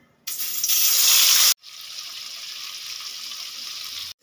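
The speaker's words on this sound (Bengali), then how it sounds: "কড়াইতে আগে তেল বসিয়ে দিয়েছি, তেলটা গরম হয়ে গেছে। এবার আমি মাছটা ভেজে নেব।" Katla fish pieces drop into hot oil in a wok, bursting into a loud, bright sizzle that cuts off briefly and then settles into a steadier, softer frying hiss, with no talk.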